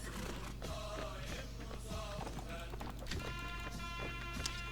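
Hooves clip-clop in an irregular run of sharp knocks over a droning electronic background, a horse moving in Mount & Blade: Warband.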